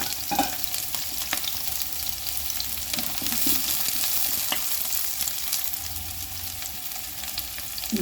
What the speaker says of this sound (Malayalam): സബോളയും കൂടി വഴറ്റാം.